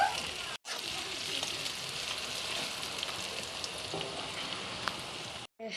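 Onions sizzle in a pan with a pinch of salt over a low gas flame while potol posto is being cooked, a steady close crackling hiss that cuts out briefly near the start and again at the end.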